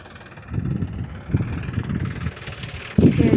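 Farm tractor engine running in an open field, a steady low rumble with rhythmic pulses and some wind buffeting, close by and fairly loud throughout.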